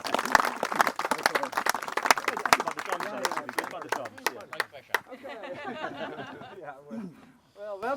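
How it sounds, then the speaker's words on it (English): A crowd at a remembrance gathering at Tyne Cot War Graves, Passchendaele, gives a brisk round of clapping that thins out after a few seconds as voices take over. "Alex Hutt, please, round of applause."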